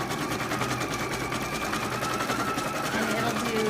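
Embroidery machine stitches an applique placement line, giving a rapid, steady mechanical chatter throughout at moderate level.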